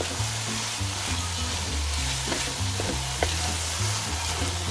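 Lasagne sauce with plenty of ketchup is stirred in a hot pan, making a loud, continuous sizzle with repeated close scraping and knocking of the spoon against the pan.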